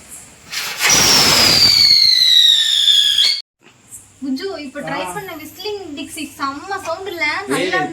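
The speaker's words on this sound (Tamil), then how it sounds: "ஆமா இது விசில் அடிச்சிட்டே சுத்திக்கிட்டே இருக்கோம்" A loud, shrill whistle from a spinning ground-wheel firecracker screams for a few seconds with slowly falling pitch and crackling hiss, then stops abruptly; excited voices follow.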